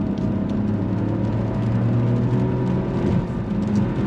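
A 2024 Chevy Trax with a 1.2 liter turbocharged three-cylinder engine accelerates, giving a steady moderate whir and engine drone as heard from inside, rising gently with no talk.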